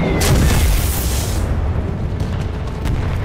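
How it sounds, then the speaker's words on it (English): Bombs exploding on a hill in a war drama battle scene: a heavy, loud boom with a rumbling roar that decays over several seconds, followed by fainter distant blasts. "Request bombers continue bombing Hill."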